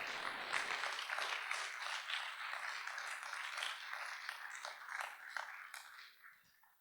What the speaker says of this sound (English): go ahead and give you guys a round of applause